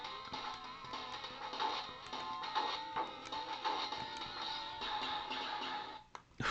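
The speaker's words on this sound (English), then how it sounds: "I bet the sounds are really bugging you, whoever you are watching this video right now that knows the sound effects in this game" Harsh, badly emulated chiptune music and sound effects from a 16-bit game on a 156-in-1 arcade multicart play steadily and fairly loud, dense and buzzy, dropping briefly near the end.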